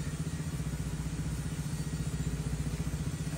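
A Raider motorcycle engine runs steadily at idle, a close, low, even throbbing with a faint mechanical clatter and no breaks across the whole stretch.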